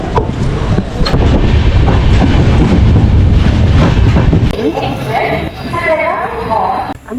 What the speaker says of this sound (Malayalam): 2 മിനിറ്റത്തെ സ്റ്റോപ്പിന് ശേഷം നമ്മുടെ ട്രെയിൻ ആവടിയിൽ നിന്ന് എടുത്തേക്കാണ്.